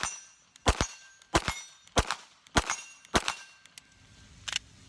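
A Canik TP9SF Elite pistol fires at a steady cadence, with each shot followed by the ring of a steel target hit at 25 yards, about six sharp reports with short metallic clangs, loud and close, with no talking.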